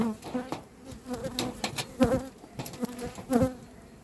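Honeybees buzz around neighbouring hives while colonies are being expanded in April. The dense, wavering drone is close and continuous, with individual bees swelling louder as they pass near.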